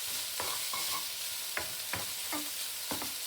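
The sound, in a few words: frittata ingredients stirred and frying in a pan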